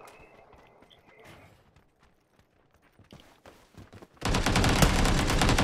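Heavy automatic gunfire in PUBG: Battlegrounds erupts abruptly after a few seconds of quiet, faint in-game sounds, then roars on loud and dense as a continuous volley of rapid shots until the end.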